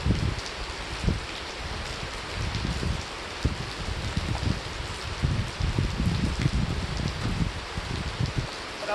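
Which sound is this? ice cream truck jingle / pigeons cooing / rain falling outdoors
rain falling outdoors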